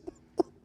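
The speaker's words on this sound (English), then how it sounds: "I'm sorry for all the coughing" Two short, sharp coughs, close and fairly quiet, arrive after a faint throaty sound during a podcast, spaced about a third of a second apart with near silence between them.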